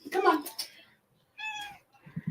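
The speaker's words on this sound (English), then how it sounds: "She has the sweetest little meow." A pet cat gives a few short, close meows indoors, with a brief pause between calls and soft household noise at the end.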